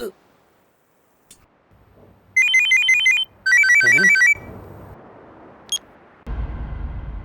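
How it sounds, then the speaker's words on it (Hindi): A mobile phone ringtone rings in two loud bursts of bright repeating electronic tones, followed by a short beep and a burst of rustling noise. "ए फोन आया रे"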